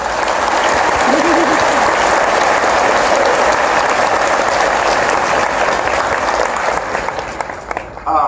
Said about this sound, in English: if you would just give a little round of applause for them